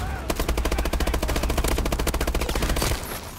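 Loud automatic gunfire in a video game team deathmatch: a fast, even string of shots for almost three seconds that then stops, with no talking.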